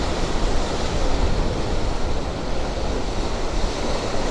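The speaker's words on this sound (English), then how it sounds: "we can see the waves coming tumbling in here" Rough autumn sea at Cala Millor, with waves tumbling in and crashing onto the shore in a steady, loud roar of surf and spray, close by. There is no talking.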